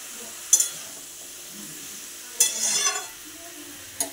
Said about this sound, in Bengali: আলুগুলো আর একবার তলা থেকে ভালোভাবে নেড়ে দিলাম।